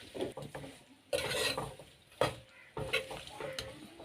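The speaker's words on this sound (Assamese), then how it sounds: "আৰু এইখিনি এতিয়া এনেকৈ অকণমান টাইম লৰাই থাকিম যেতিয়ালৈকে গোন্ধ নেৰে।" Spices for an olive (jalphai) pickle are stirred in a pan, with several distinct scraping strokes, light sizzling between them and a close, clattering texture.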